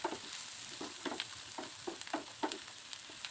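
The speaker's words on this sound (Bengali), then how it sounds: "তেলটা গরম হলে এর মধ্যে বেশ কিছুটা পেঁয়াজ কুচি আর কিছু খোসা ছাড়ানো রসুনের কোয়া দিয়ে দিব" Chopped onion and peeled garlic cloves frying in hot mustard oil, a steady close crackling sizzle with irregular stirring clicks and pops.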